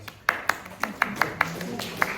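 A small audience gives a thin round of applause, a handful of separate, fairly loud claps spaced unevenly over a quiet room.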